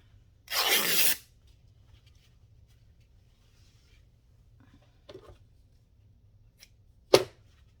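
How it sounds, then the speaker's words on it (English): A craft piece is trimmed narrower with one loud, brief cutting stroke near the start, followed by quiet pauses, faint taps and a sharp click near the end. "I'm going to cut this skinnier."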